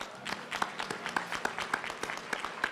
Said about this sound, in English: Please join me in giving all our awardees a round of applause.